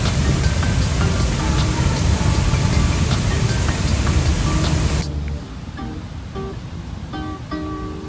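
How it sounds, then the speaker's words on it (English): Goðafoss waterfall in north Iceland roars with a dense, loud, unbroken rush of falling water. The roar drops sharply after about five seconds to a softer, more distant wash. "Apparently it is the most powerful waterfall in all of Iceland"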